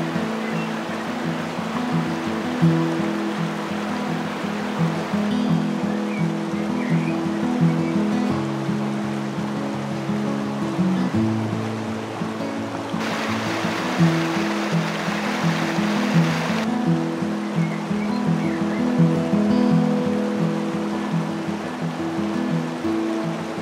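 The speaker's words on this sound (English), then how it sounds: "The shady creek and refreshing mountain air is a perfect place to spend the day." Shady mountain creek below Silverton Falls in Banff, Canada, a constant loud rush of flowing water with a low steady rumble, continuous and close throughout, with no talking.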